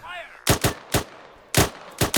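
Gunfire in the Arma 3 video game: five loud, close rifle shots in two quick bursts, sharp and punchy, with a short gap between the groups.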